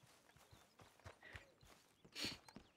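Horse hooves clip-clop at a steady walking pace in the Red Dead Redemption 2 video game, moderately faint beneath ambient game sound.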